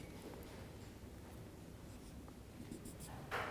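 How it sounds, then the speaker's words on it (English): A lecturer sketches a spectrum on a classroom board, faint scratching strokes over a steady room hum, with a brief louder scrape at the end. "Let me sketch it a little better."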